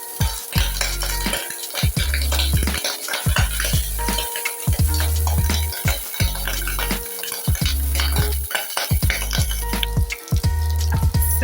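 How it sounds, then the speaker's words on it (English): Garden eggs (entula) fry in ghee and a little cooking oil, with a close steady sizzle under repeated rhythmic scraping and clinking of a spoon stirring the pan. "I first put ghee, then some little cooking oil, then ENTULA."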